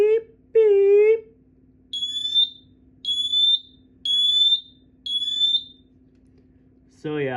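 A rare copper-colored smoke alarm sounds four evenly spaced, loud high-pitched electronic beeps, each lasting about half a second. A voice imitates the beeping just before them, and speech resumes right after.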